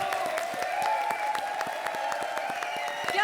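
A studio audience at a comedy music contest show bursts into loud, dense applause with many overlapping claps, while sustained musical tones ring underneath.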